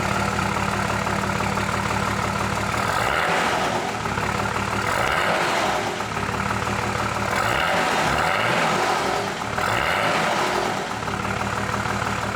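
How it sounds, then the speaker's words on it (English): A Nissan GQ Patrol engine fitted with a new exhaust starts and settles into a steady, loud rumbling idle, with a few blips of revving swelling and falling across the span. "The new exhaust fitted up really good and it sounds mint, so let's start it up and give it a whirl."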